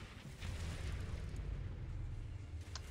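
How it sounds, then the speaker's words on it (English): A nuclear weapon detonating in the mobile strategy game C&C Rivals, a deep sustained rumbling roar that swells and holds for a few seconds, loud and heavy at the low end. "Nuclear weapon launched."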